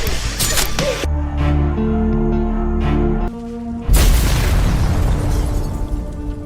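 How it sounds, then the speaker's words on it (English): A narcotics manufacturing plant blows up in a movie: a loud, close explosion with a heavy low boom, a brief lull, then a second burst of roaring blast and debris that slowly fades. "before finally blowing up the factory"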